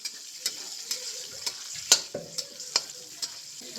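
Curry leaves and green chillies frying in hot oil for chicken chilli, a soft steady sizzle broken by regular sharp spatula taps and stirring clatter, close and without talk.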